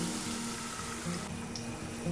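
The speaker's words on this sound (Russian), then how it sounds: "Теперь наливаем сливки." Cream poured into a pan of onion and carrot softened in oil, giving a steady close hiss and gurgle of liquid meeting the hot vegetables, with no talking.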